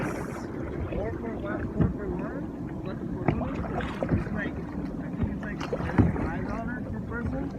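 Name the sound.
boat moving on water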